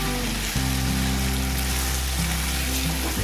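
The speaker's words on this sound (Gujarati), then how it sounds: "બટેકાને આપણે તેલમાં જ ચડવા દેવાના છે" Potatoes for sabudana khichdi cooking in hot oil give a steady, dense sizzle and crackle, close and continuous, with a low hum underneath.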